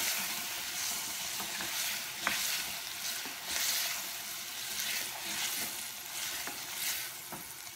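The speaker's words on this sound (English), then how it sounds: "I'm going to hit it with a little bit of the red wine to deglaze the pot" Red wine hits a hot pot for coq au vin, sending up a sustained close hiss and sizzle with faint stirring scrapes and small pops along the way.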